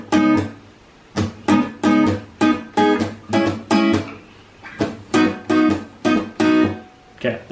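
Guitar strumming the verse of a song, repeated rhythmic chord strums in short pulsing bursts, close and clear with no talking.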